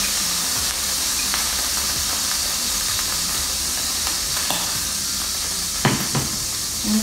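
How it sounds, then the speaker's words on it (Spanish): Food sautéing in oil in a pan, a close steady hiss and sizzle with a few clinks and light knocks from the pan and utensils, no talking. "Vamos a empezar a rehogar."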